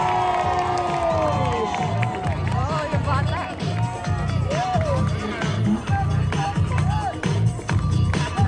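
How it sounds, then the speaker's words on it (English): A street-performance crowd in Times Square claps and cheers steadily through the whole stretch, with shouts and a performer's voice calling out over the noise. "Everybody, clap your hands."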